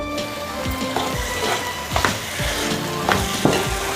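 Ridge gourd and chana dal curry cooking in a pan, a steady close sizzle and bubbling with occasional stirring clinks, no talking.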